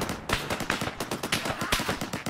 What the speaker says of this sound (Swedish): Är det båten som dundrar på med kanonen?